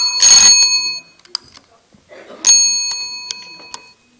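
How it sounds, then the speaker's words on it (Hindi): A bright electronic ringing tone sounds in two bursts separated by a pause, with small clicks and faint sounds between. "अरे अरे फोन की घंटी बज रही है।"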